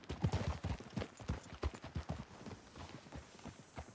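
Horse hooves clip-clopping in Red Dead Redemption 2, a steady run of close, loud hoofbeats on the ground lasting the whole stretch, alone with no talk.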